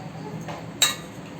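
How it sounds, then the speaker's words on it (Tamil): A cooking pot is set on a stove with one sharp metallic clink before jaggery goes in, followed by a quiet room. "அடுப்பு மேலே ஒரு பாத்திரம் வச்சுக்கிட்டு இதில் 1 கப் வெல்லத்தை சேர்த்துக்கலாம்."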